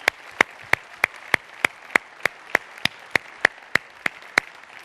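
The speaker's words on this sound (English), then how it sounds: "Let's have another round of applause for Tim Hebert and for Dominique as well." Sharp, evenly spaced claps at a steady slow beat, about three per second, crisp and close with quiet gaps between them.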